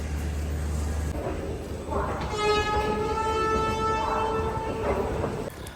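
Train rumbling at Chandigarh railway station as a long, loud horn blares for several seconds; people speak nearby over the noise.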